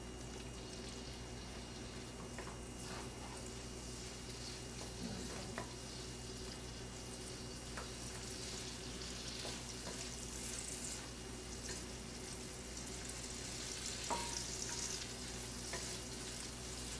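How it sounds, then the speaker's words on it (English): Continuous soft sizzle of vegetables frying in a wok, with occasional clicks and scrapes from stirring, fairly quiet and close. "Turn it up a little more to get it sizzling."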